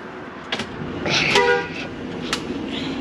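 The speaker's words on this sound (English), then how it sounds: "Air horn works." A brief, loud air horn blast from a 2006 Fleetwood Bounder Class A diesel motorhome sounds once, its tones ringing clearly above a low engine rumble and faint background noise.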